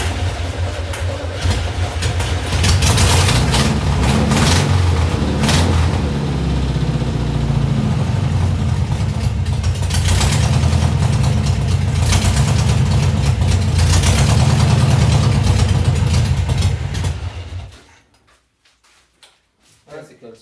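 A Volkswagen Beetle engine runs loud and close for about seventeen seconds, with rising revs and a rough, steady idle, then cuts off into near silence; voices talk over it.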